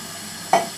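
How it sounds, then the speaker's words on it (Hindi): Water poured into a hot pot of bhuna mutton on a high flame gives a brief loud sizzling burst that fades quickly over a steady background hiss. "तो यहाँ पर हम ऐड करेंगे पानी"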